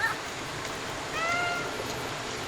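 Cats meowing in the video game Stray: one drawn-out meow at the start, then a clearer, longer meow in the middle, over a steady soft game ambience.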